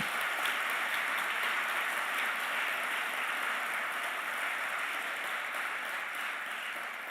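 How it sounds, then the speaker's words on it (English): Applause from the audience at a Glasgow public forum, a dense, even wash of many hands clapping, fairly soft and distant, holding steady before easing slightly at the end. "I'd like to get you all to give everyone a round of applause"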